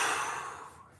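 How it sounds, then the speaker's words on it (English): A single deep exhale during a breathing exercise in a mobility workout, a soft breathy rush that starts strongly and fades over about a second, heard up close and alone. "Big inhale here, and then exhale."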